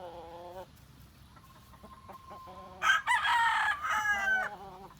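A Hatch Gray gamefowl rooster crows once, loud and close, in a drawn-out cock-a-doodle-doo, with a few soft clucks and faint background noises before it.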